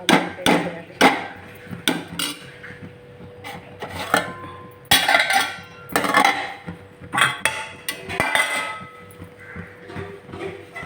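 Gongura leaves, coriander and salt being pounded with a wooden masher, producing a steady run of loud, close, hard thumps in an uneven rhythm.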